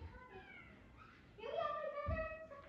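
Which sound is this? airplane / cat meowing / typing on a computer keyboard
cat meowing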